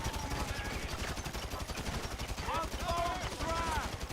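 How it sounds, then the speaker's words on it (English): Rapid, regular gunfire from GTA 5 crackles in a steady stream of close shots while a voice talks over the later part. "I'm shooting this guy in the head, right?"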